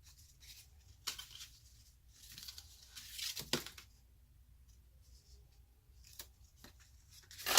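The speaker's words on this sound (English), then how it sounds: "And then I just came in with a little tear and tape." Tape torn off by hand while assembling a stamped paper gift card holder, a few short quiet rips and crinkles with soft rustling in between, no voices.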